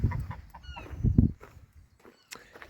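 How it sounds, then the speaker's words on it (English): Farmyard fowl at an open-air folk museum, with chickens, a cockerel and noisy geese calling in a few short bursts, loudest near the middle, over rustling and faint footsteps. "Got some geese. The noisy geese."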